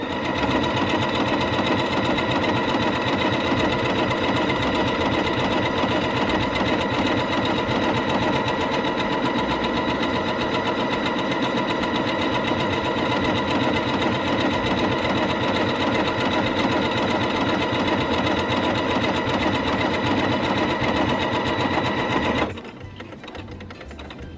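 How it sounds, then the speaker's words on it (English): A sewing machine runs steadily for over twenty seconds stitching a stretch buttonhole at moderate speed, a close, continuous mechanical whir with no talk, then stops abruptly near the end. "So I've got it on 38, the stretch buttonhole, not too fast on the speed because you don't want it to whiz off"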